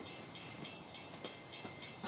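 A train passes at night, a continuous rumbling roar with faint rhythmic clatter of wheels on rails, moderately distant and steady throughout.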